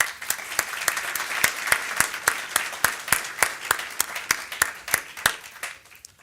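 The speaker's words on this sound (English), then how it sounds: "So please, applause" Modest audience at an Indiana University College of Arts & Sciences Phi Beta Kappa ceremony claps in crisp, regular beats, a thin, steady applause that tapers off near the end.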